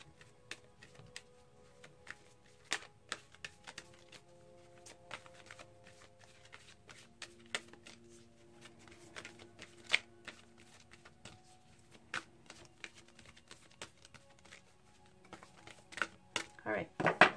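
Oracle cards shuffle close by in a run of crisp riffling clicks and soft slaps, building into a denser flurry near the end, quiet with a low room hum beneath.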